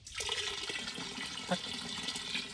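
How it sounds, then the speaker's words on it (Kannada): Arecanut pesticide spray mixture containing chlorpyrifos and gum is poured straight into a drum, giving a continuous, close splashing gush of liquid with a brief louder slosh partway through. "ಇದನ್ನು ನಾನೀಗ ಡೈರೆಕ್ಟಾಗಿ ಹಾಕ್ತಾ ಇದ್ದೀನಿ ಡ್ರಮ್ಮಿಗೆ"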